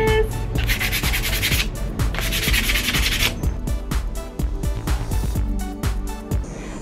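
Sanding on a laminate bookshelf surface, a loud continuous scratchy rubbing close up, first in long strokes, then in a rapid back-and-forth rhythm, with no voices.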